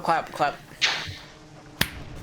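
A single sharp hand clap to sync a podcast recording lands near the end, after a few brief spoken sounds.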